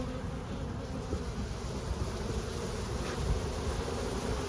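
A swarm of honeybees buzzing during a hive inspection, a dense, continuous hum close by and fairly loud, with no voices over it.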